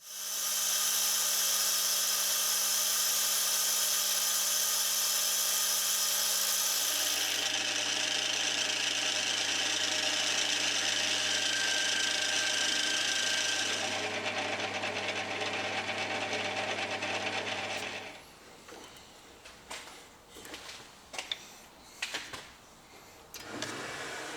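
A steady metal lathe whine drones for a long stretch with shifting pitch, then gives way to scraping, chattering metal-cutting sounds as it parts through knurled stock, growing irregular toward the end.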